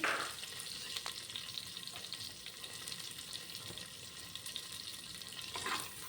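Spices and onion sizzle steadily in hot oil, close by, with a few faint stirring clinks over the constant crackle.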